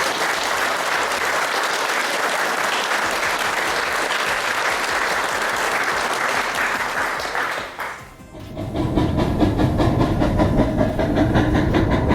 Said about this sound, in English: putting your hands together to give a big clap to the volunteers